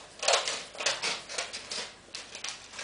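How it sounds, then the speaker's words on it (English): Scissors snip through paper while a paper bird is being made, giving a string of close, crisp, rhythmic cuts, about ten in a row. "Then you get your scissors and then cut along this here."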